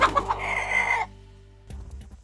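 Chickens cluck and a rooster crows in the Stardew Valley video game, the bird calls fairly loud for about a second before cutting out to near silence, then a brief low rustle.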